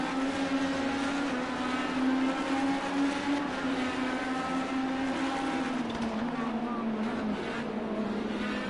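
IndyCar race cars in the Project Cars 2 racing game scream at high revs through a continuous engine drone, with steady loudness and no gaps.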